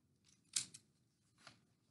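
Scissors cutting out a paper unicorn ear, two quiet crisp snips spaced about a second apart in a near-silent room.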